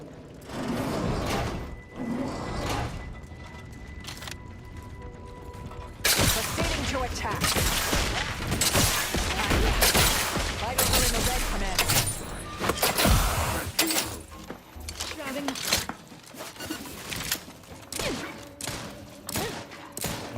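Sniper rifle and other weapons firing in the sci-fi shooter game The Outer Worlds 2, heard as repeated sharp cracks and bursts amid dense game noise and music, with a voice speaking over parts of it.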